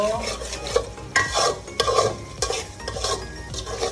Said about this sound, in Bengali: ভালোভাবে কষাইয়া নেব।